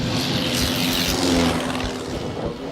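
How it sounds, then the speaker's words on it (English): A homemade propeller plane drones steadily overhead with a loud, continuous engine buzz and airscrew whir that holds for a few seconds without talk. "flying his homemade plane"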